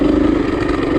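KTM 350 EXC-F four-stroke dirt bike ridden just off idle, a loud, close, steady low thrumming engine note with a fast even pulse, no voices.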